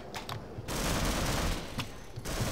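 Bursts of automatic gunfire in the video game Half-Life, quick rattling volleys broken by short pauses, loud and continuous through most of the moment.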